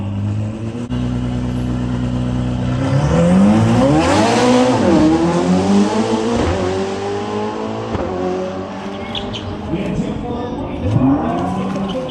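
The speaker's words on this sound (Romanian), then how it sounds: "ලස්සන කාල් රැලි එකක් තියෙනවා." Rally cars race past at a car rally in Sinaia, Romania, engines revving loudly and steadily with rising and falling pitch as they accelerate, tires squealing briefly, crowd noise and voices mixed under the roar.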